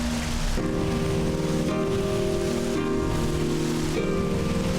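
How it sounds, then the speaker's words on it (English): Steady hiss of rain in the video game Flower falling over a sustained, slowly shifting musical drone, continuous and even throughout. "Oh, it's raining."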